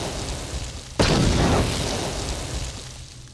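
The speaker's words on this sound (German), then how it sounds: "Das war eine ziemliche Explosion" A sudden loud, deep video game explosion in Star Wars: Knights of the Old Republic bursts in after a low rumbling background, then rolls on as a long, fading roar with debris-like crackle.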